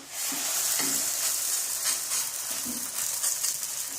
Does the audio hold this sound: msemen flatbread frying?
yes